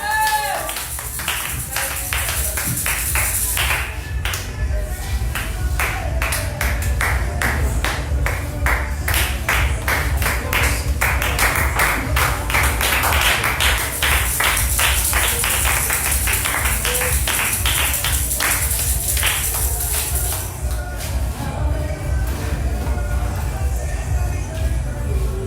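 A church congregation at an Easter seminar claps in steady rhythmic beats, with acclamations for Jesus. The clapping is loud and sustained throughout, joined by voices and singing.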